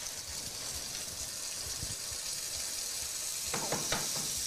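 A tablespoon of butter sizzles in a pan alongside coho fish, giving a steady, faint hiss. Soft crackles rise near the end.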